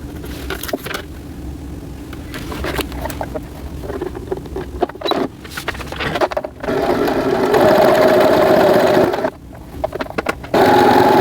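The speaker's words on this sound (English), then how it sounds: "I've pinned my fabric, and this is where I'm going to sew." A domestic sewing machine stitches fabric for a small doll top, running in steady close bursts with brief pauses between seams; no one speaks.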